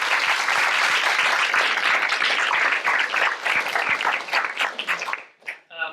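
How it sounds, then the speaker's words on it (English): An auditorium audience at a university start-up demo day claps steadily for the judges, a full dense round of applause. It thins out after about five seconds, and a voice begins speaking at the end. "could we just get a round of applause for our judges"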